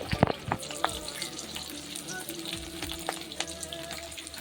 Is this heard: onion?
yes